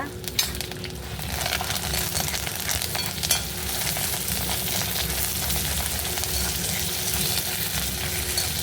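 Mustard seeds, urad dal and chillies fry in oil for an Ixora flower chutney, giving a steady close sizzle with popping crackles throughout, no voices.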